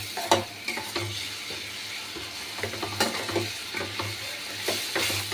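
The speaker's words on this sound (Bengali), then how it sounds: "এবারে এটা দিয়ে আমি একটুখানি কষিয়ে নেবো, হলুদ আর এই দিয়ে লঙ্কার গুঁড়ো দিয়ে ভালো করে কষিয়ে নেব।" Pointed gourd being stir-fried in a pan with turmeric and chili powder, giving a steady sizzle broken by repeated scraping stirs of a spatula, close and moderately loud, with no talking.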